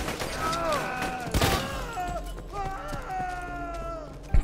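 An Iridium gun in Borderlands 2 fires a few quick bursts amid game effects and tonal weapon sounds, while a player talks over it.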